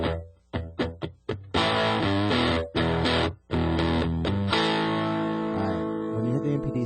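A distorted electric guitar runs through a GOD BOX FX God Complex distortion pedal with the tone switch in position 4, starting with short choppy stabs, then sustained saturated chords ringing out loud and alone.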